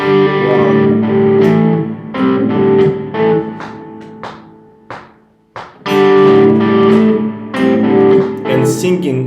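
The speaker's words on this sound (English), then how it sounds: "This riff starts actually on an off beat." Electric guitar riff from a song, played in bursts of sustained chords and picked notes with a short gap midway, loud and close with no voice over it.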